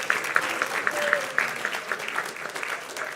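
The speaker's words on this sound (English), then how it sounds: "Another round of applause for our graduating class." A hall full of people claps steadily for a school graduating class at a graduation ceremony, a sustained round of applause with some talking mixed in.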